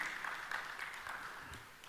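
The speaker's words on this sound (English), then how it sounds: "Big round of applause for Rishi, please." Audience applauding for Rishi at a talk, a brief burst of moderate clapping that fades out.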